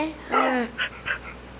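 A dog gives a short whining yelp, followed by two quick softer whimpers, close by in a quiet room.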